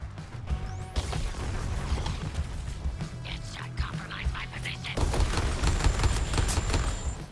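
Gunfire in a console video game, a dense stream of shots and crashing impacts running throughout over a steady game soundtrack, with a louder, busier burst in the second half.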